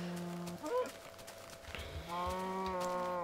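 Cows in the Minecraft video game moo, with several long, low, droning calls close by, one at the start and a longer one at the end, with a brief burst of other noise in between.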